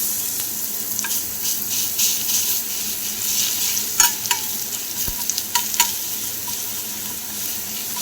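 Garlic paste sizzles in hot oil for a katla kalia, a steady frying hiss broken by several sharp spoon clinks and stirring taps against the pan.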